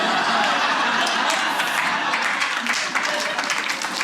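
Scattered applause from a woman in a comedy-show audience, a steady dense patter of hand claps with crowd murmur and light laughter throughout.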